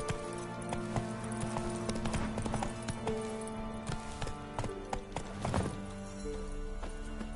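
Roach the horse gallops in The Witcher 3, its rapid hoofbeats clopping steadily over game music and ambience, with a short whinny mixed in partway through.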